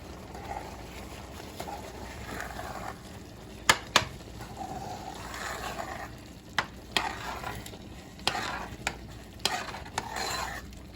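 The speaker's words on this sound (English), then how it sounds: "I'll stir it again" White rice being stirred in a pot as its liquid cooks down, a soft continuous bubbling sizzle broken by sharp spoon knocks and scrapes against the pot at irregular intervals, close and fairly quiet.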